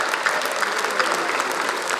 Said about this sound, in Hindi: उनके लिए इसलिए तालियां बजाओ जो अपनी पत्नियों के साथ आए हैं